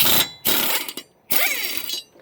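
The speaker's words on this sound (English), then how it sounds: "so we got the impact driver, 3/4 inch. Make sure it's in reverse." A 3/4-inch impact driver running in reverse to remove mower blade bolts, two loud, close bursts of buzzing hammering, the second whining as it spins down, with a brief quiet gap between.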